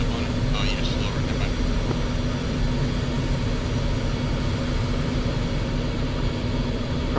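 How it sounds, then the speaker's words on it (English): A helicopter in the military video game Arma 3 flies low overhead, a steady loud rotor and engine drone filling the whole stretch with no letup. "Still got an enemy helicopter hovering northeast side of the AO"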